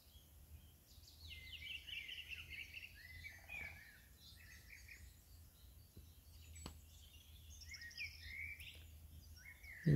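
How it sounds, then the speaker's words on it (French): Birds sing and chirp at sunrise in scattered, overlapping calls, faint and distant over a quiet background, with a faint buzz of insects. "écouter le chant des oiseaux"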